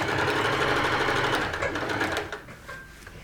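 Sewing machine stitching sequin fabric for a Japanese-style tote bag, a steady, close mechanical whirr that runs continuously before slowing and fading toward the end.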